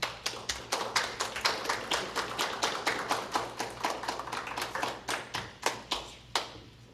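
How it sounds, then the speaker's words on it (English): Hands clap for a guest speaker at the close of a religious service: a small audience's crisp, evenly spaced claps in a steady rhythm that carries on for several seconds without talk. "Let's give her another round of applause."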